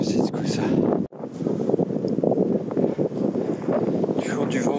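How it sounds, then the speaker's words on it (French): Strong wind blowing across an open mountain summit on a hike, a continuous loud, buffeting rush on the microphone with one brief drop partway through. "Toujours du vent au sommet."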